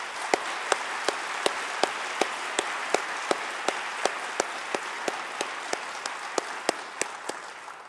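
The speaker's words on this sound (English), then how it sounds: "Let's applaud Jarrell and Travis for their accomplishments." Steady audience applause at a county schools State of Education address, a wash of clapping with one sharp, regular clap standing out every fraction of a second above the crowd.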